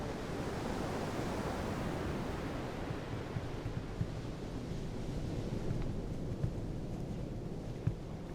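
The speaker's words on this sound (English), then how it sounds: "powerful masses of water thunder down to the tundra" Powerful masses of spring meltwater thunder down onto the Siberian tundra, a steady broadband roar like heavy surf or wind that holds constant throughout, with occasional faint thuds.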